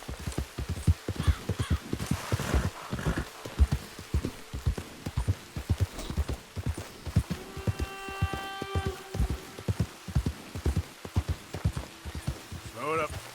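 Rhythmic hooves of a horse galloping in Red Dead Redemption 2, firm regular beats throughout, with speech and tonal game sounds layered over them.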